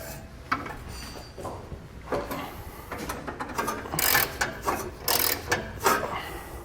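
Ratchet and 19mm socket working rusty trailer hitch bolts loose on a 2015 Nissan Xterra, giving repeated clicking and grinding bursts that grow louder and busier toward the end, close up with no talk.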